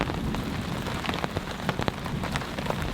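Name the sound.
heavy rain falling at a campsite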